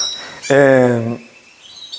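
Pet birds sing indoors: a loud, clear whistled phrase in the foreground, with higher chirps around it and a faint thin call continuing afterward.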